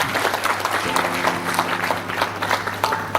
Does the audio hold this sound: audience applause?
yes